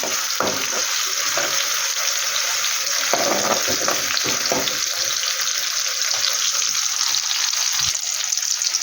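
Egg gravy curry in a frying pan sizzles steadily while being stirred, with a constant close frying hiss and intermittent spoon scrapes and clinks.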